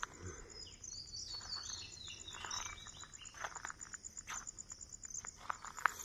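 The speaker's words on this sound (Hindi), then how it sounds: "चिड़ियों की आवाज़ आपको सुनाई दे रही होगी।" Birds chirp and twitter in the jungle before dawn around a resort near Pench National Park, a mix of faint, scattered calls over a soft, constant insect trill.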